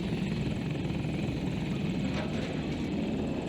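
A helicopter in the video game Battlefield 2042 gives a constant, loud rotor-and-engine roar, close and steady throughout, with no other clear sounds over it.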